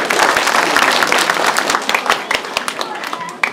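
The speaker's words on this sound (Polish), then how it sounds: "Ogromne brawa." A crowd at a Pucheroki folk event in Bibice, Poland, breaks into loud, close applause that starts dense and gradually thins into scattered individual claps, with voices murmuring underneath.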